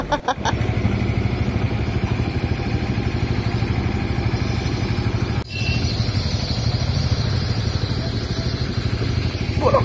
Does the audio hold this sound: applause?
no